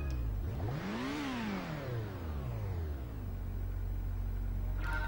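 A car from the Gran Turismo racing game on PS1 is heard. Its engine tone sweeps up and back down in a clear rev, then settles to a low steady idle hum. The sound is faint, with no talk.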